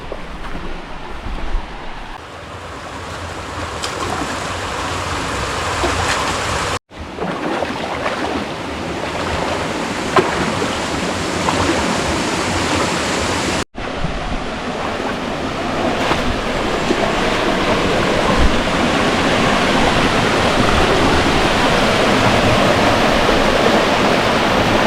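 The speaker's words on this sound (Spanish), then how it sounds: "que ya mismo estamos viendo la cascada" The La Zanara waterfall pours in a loud, continuous broadband roar heard from nearby, steady for the whole stretch with two brief cuts and no voices.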